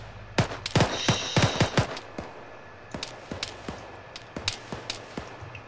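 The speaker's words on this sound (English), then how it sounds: "Give me cover fire, I'm setting up sandbags." A rapid volley of gunfire in ArmA 3, many sharp close cracks in quick bursts at first, then sparser individual shots continuing steadily, with no talk over them.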